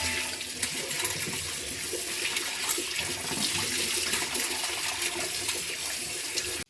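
Tap water runs and splashes while an old steel plate is rinsed, making a steady, close rushing and spattering of water that continues evenly without speech.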